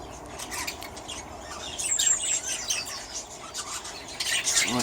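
Budgies, canaries and finches, about twelve breeding pairs, in a large colony-style aviary; scattered thin chirps and tweets at moderate distance over a rustling, scratchy background, with occasional wing flutters.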